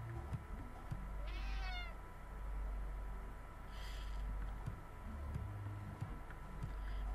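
A cat meows once in a rising and falling call inside the Friday the 13th Killer Puzzle video game, set over a steady low game ambience with a faint brief chime later.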